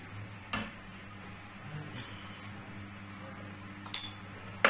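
Faint metal spoon clinks against a cup while coffee is scooped in, a few sharp isolated taps separated by quiet room tone, with no one speaking.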